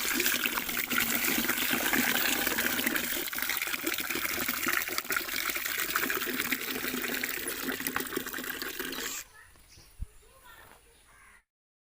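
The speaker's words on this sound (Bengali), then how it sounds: "2টা ট্যাপ ছেড়ে দিলাম।" Water gushes from two open taps over a sack of mustard seeds set to soak. The loud, steady rush runs for about nine seconds, then cuts off to near quiet.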